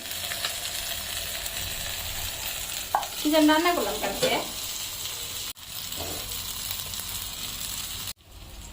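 Pointed gourd sizzles as it fries lightly in a pan, a strong, continuous crackle that runs throughout. A person speaks briefly partway through.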